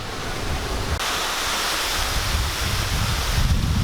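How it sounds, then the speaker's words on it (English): Rough sea surf beside a St Lucia beach resort as a hurricane approaches: a steady, loud wash of crashing waves with heavy wind buffeting the microphone and no voices. "the water's not usually that rough. There is a Hurricane Isaac coming this way, so this is the roughest I've actually seen"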